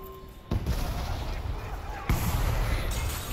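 Frag grenade explosions in the shooter game Selaco, two heavy booming blasts about a second and a half apart, each followed by a rumbling, crackling tail of debris.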